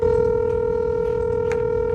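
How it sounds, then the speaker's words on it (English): A telephone line gives a steady, loud electronic tone that holds unbroken for about two seconds, then cuts off abruptly. "and called the phone numbers they left with the company"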